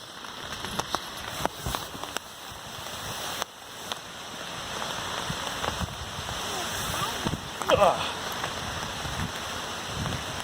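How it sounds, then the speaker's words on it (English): Light, steady patter of rain on a small tree tent across the whole stretch, with a few louder drips and faint background noise; no clear talking. "Okay, still raining a little bit"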